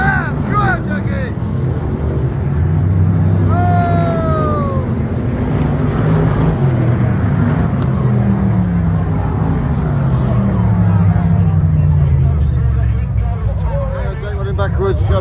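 F1 stock car racing on an oval track, engines roaring in a steady loud drone with a car passing and fading, wind buffeting the microphone and a voice talking over it.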